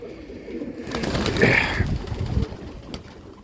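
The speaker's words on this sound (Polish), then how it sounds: "Takie gołębie, no jak widać, no." A pigeon coos once in a low, rolling burst near the middle, close by, over faint outdoor background noise.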